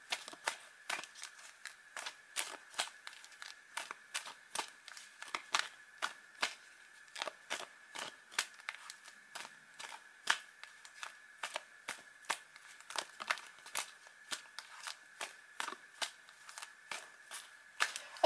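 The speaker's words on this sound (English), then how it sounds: "let me shuffle these cards a bit more before I split them" Crisp, rapid shuffling of tarot cards repeats steadily, with sharp riffling bursts and short pauses between them, close up and otherwise quiet.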